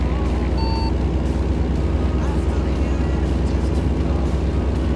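An old-school truck engine idles and rumbles steadily in American Truck Simulator, a dense low drone filling the whole stretch, with a brief beep tone early on and no talking over it.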